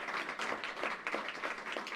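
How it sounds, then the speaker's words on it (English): Applause from an event audience at a Climate Week announcement by the New York governor, a short burst of dense scattered clapping at moderate level with no speech over it. "Let's have a round of applause for Climate Week."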